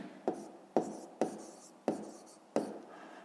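Pen strokes on paper while working a fifth-grade maths exercise, five distinct scratchy taps spaced roughly half a second apart, each followed by a brief rubbing trail, close and fairly quiet with no talking.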